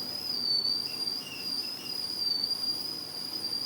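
An idli steamer pot gives a thin, steady steam whistle with a high, constant pitch that wavers slightly. It carries on for several seconds over faint kitchen background noise.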